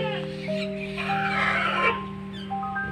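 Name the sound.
Pekin bantam chicken clucking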